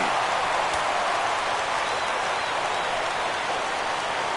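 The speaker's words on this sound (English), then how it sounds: "Crowd gets up for the 3-2." A stadium crowd in the MLB The Show 17 baseball video game roars up for a full-count pitch, a steady, dense wash of cheering that holds loud and even throughout, with no voices.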